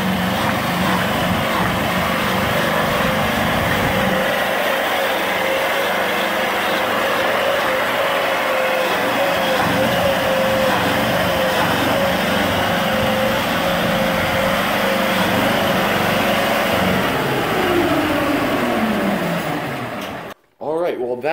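A homemade tank's engine runs steadily throughout a test drive, a droning hum with a faint rising whine, continuous and fairly close before cutting out abruptly at the end.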